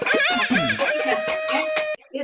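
A voice imitates a rooster's crow during a yoga breathing exercise, a single drawn-out, strained call that lasts nearly two seconds before a short breathy sound follows.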